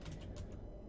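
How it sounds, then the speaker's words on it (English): Giant locking mechanism unlocking in the video game Good Bye Rebeca, a brief creaking, ratcheting clatter of gears, faint and under a low rumble. "Must be one giant locking mechanism."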